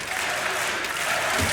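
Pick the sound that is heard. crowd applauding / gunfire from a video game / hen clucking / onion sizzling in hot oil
crowd applauding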